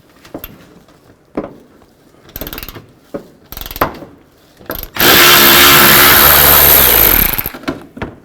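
A ratchet with a 10mm socket works a headlight bolt loose on a 2003-08 Toyota Matrix: scattered sharp clicks close by, then a loud, sustained burst of mechanical noise lasting a couple of seconds before the clicks return.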